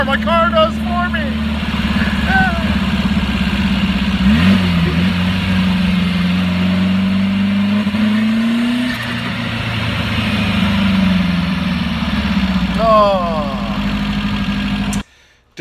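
A turbocharged air-cooled VW engine idles close by with a steady, throbbing drone, its pitch swelling and dropping as the revs rise and fall throughout, with a short high whine near the end before it cuts off.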